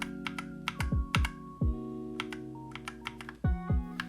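Clicky keystrokes on an Akko 3068 Silent Bluetooth keyboard: a handful of separate key presses spread irregularly over a few seconds, close and fairly quiet, with no voices.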